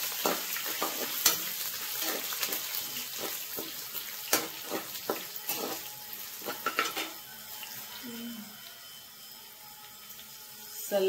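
Curry leaves and chillies frying in hot oil, a continuous crackling sizzle with frequent sharp pops and spatters, close and busy, easing toward the end.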